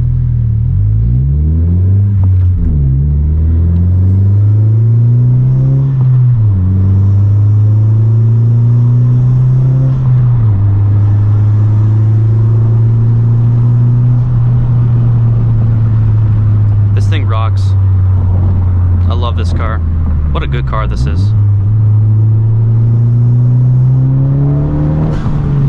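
A manual 10th-generation Honda Civic engine drones steadily while driving, its pitch dipping and rising as the throttle is lifted and reapplied in first gear, with people talking over it throughout.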